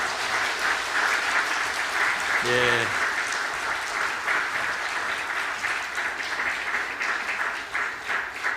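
Sustained applause from a church congregation during a Sunday worship service, steady and fairly loud throughout, with a brief spoken word and a short low voice near the start.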